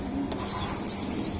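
Pigeons of mixed breeds such as racers kept in a loft, giving a brief soft coo heard close and fairly faint, with no talk over it.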